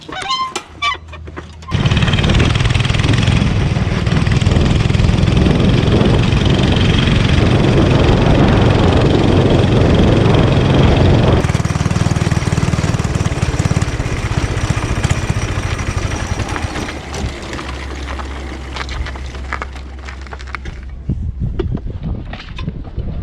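A drift kart engine with a failing axle starts up and runs loudly and close, a steady buzzing drone that shifts pitch partway through and fades down near the end, with no talk over it.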